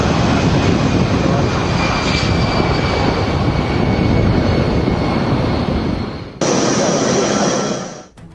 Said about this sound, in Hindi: इस एयरबेस से आज ही दूसरे विमान ने भी उड़ान भर दी